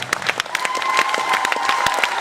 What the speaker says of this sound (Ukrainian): ще раз ваші оплески